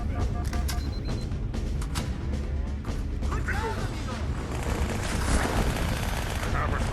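Dual-wielded weapons fire in the video game Halo 2, dense rapid bursts of game gunfire with mechanical clatter and impacts, loud and continuous, mixed with battle effects and voices.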